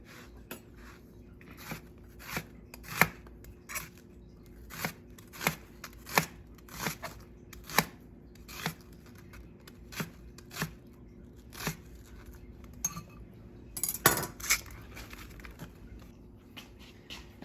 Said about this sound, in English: we're gonna just chop these up